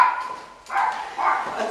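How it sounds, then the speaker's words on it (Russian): A dog barks near a house during a police evacuation in the Luhansk region, giving two or three loud, close bursts with short pauses between them. "У меня собака."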